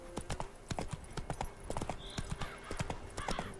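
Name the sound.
horse hooves galloping, Roach in video game The Witcher 3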